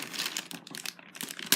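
Plastic packaging wrap pulled and crinkled off a Fjallraven Kanken Mini backpack, a short burst of close, loud rustling and crackling that ends with a sharp tearing snap.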